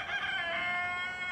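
A rooster crows at a distance in a garden, one faint drawn-out call over soft outdoor background.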